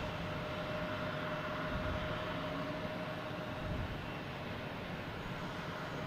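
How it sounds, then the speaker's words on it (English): A Delta Airbus A220 jet taking off at Boston Logan Airport, heard as a steady, sustained roar of engine noise with a faint tonal whine, even and broadband throughout. "we have Delta taking off, an A220."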